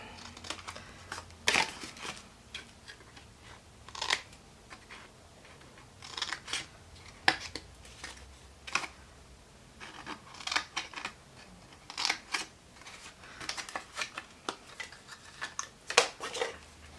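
Scissors snipping the edge of paper while making a gift card box, close and crisp, with irregular short cuts spaced every second or two alongside faint paper rustling.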